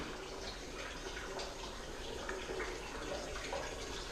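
Water runs steadily into a mini washing machine powered by a Kodiak, filling it for a rinse of shop towels. It makes a continuous, even rushing and splashing close by, with no talking.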